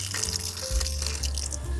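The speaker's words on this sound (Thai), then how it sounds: "มาแล้วนี่น้ำไหลเข้ามาข้างนอกเลยเห็นไหม" Water gushing steadily through a brass-headed 40 micron coarse pre-filter rated for 3000 litres per hour, a continuous close rushing flow with no voices.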